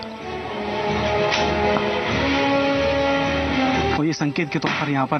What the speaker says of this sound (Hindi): देखिए फायरिंग की आवाज लगातार आ रही है